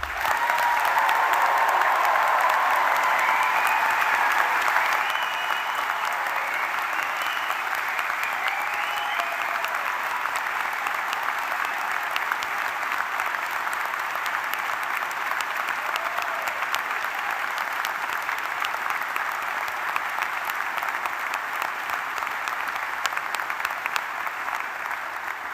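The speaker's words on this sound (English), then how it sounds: "One final round of applause for our new graduates." A large audience at a graduation ceremony keeps up long, steady applause for the new graduates, broad and sustained, with a faint voice heard briefly at the start.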